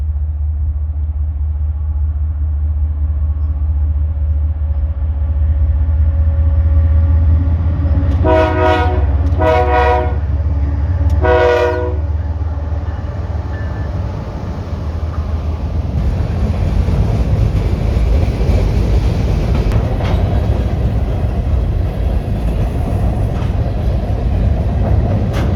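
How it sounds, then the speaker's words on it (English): A CPKC freight train crosses a bridge over the Souris River, a steady loud rumble of rolling cars throughout with a few bright horn-like tonal bursts partway through. "Once the way was clear, the CPKC got on the move again."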